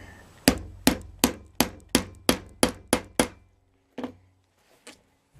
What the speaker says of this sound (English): Okay, and then I give it a few taps.